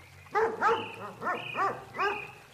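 A toy dog figure voiced in a Playmobil princess-castle play scene gives a string of five short barks, close and fairly loud, evenly spaced, with no talk over them; the barks are likely a person imitating a dog.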